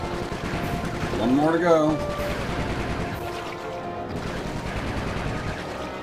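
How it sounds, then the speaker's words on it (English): Rapid bursts of gunfire in the video game Sly 3: Honor Among Thieves crackle under a speaking voice and game music, with a rising tonal effect partway through and the shots continuing at moderate volume. "Nice shooting, Bentley."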